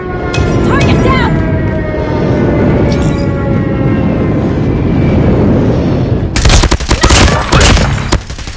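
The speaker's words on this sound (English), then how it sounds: "Friendly airstrike incoming." Airstrike in Call of Duty Mobile: a sustained roar of gunfire and rumbling blasts, then a sharp run of loud, crackling explosive bursts near the end, mixed with game voice lines and tones.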